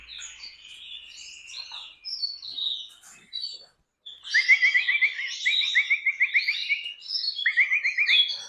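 Hungry bird chicks being hand-fed give high, rapid chirps and begging trills, starting thin and intermittent then swelling into insistent, repeated bursts close by.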